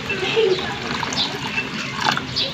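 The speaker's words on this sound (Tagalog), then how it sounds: "At dagdagan na rin natin yan ng tubig." Water poured into a pot of soaked rice for lugaw, a steady splashing trickle that runs for a couple of seconds at close range.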